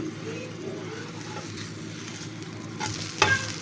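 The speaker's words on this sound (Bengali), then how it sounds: "তিলের প্রত্যেকটা চাপটি আমি এভাবে ভেজে নিচ্ছি।" Sesame chapati frying in a pan, a quiet steady sizzle with occasional faint scrapes and a brief sharp clink near the end, no voices.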